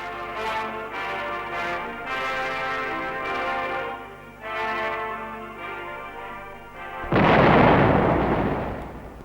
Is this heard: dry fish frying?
no